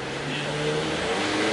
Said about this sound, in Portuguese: Sentiu a potência do carro?